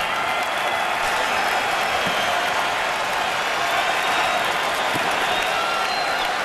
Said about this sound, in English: rather loud set of applause here from the fans as he comes into the game